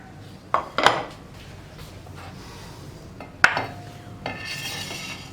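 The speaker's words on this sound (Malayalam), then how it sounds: "അപ്പോൾ നമുക്ക് ആദ്യം ഈ പുട്ടുപൊടി നനച്ചെടുക്കാം." Dry puttu rice flour being moistened in a large bowl in a home kitchen, with a few sharp clinks of utensil against the bowl between quieter scraping and mixing.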